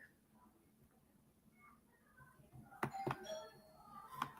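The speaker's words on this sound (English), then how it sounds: "Somebody ringing the doorbell." A household doorbell chimes a few times at moderate distance, alone in a quiet room after faint background murmur.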